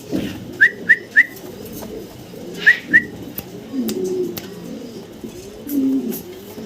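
A pair of Mundian fancy pigeons coo close by, giving several short soft calls in small clusters, with lower murmuring coos and rustling between them and no talk.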